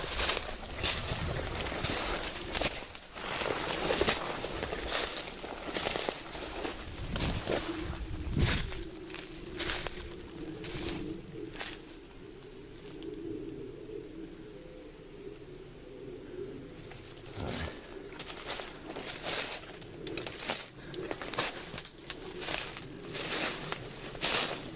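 Soft, low cooing of doves repeats in drawn-out phrases, partly masked by rustling and crackling handling noise close to the microphone.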